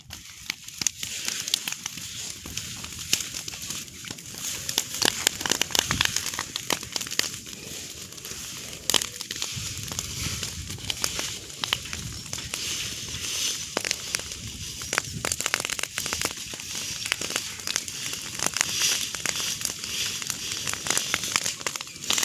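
Continuous crackling and popping of a field-clearing fire on farmland, fanned by strong wind, dense and fairly loud, with sharp snaps scattered throughout and a low rushing roar beneath.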